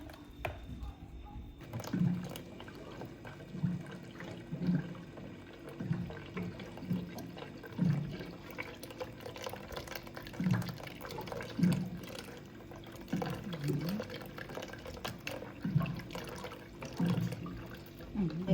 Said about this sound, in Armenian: հիմա էլ հավելացնեմ ջուրը